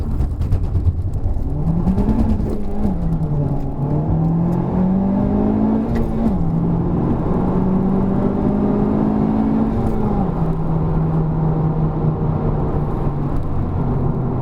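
A Honda Civic Type R launching and accelerating from 0 to 100 km/h, heard from inside as a loud, continuous engine drone that climbs in pitch, drops briefly at each gear change and climbs again.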